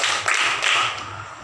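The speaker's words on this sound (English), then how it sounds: "3 claps" Three sharp hand claps from a teacher in a classroom ring out close and evenly spaced, with no talking.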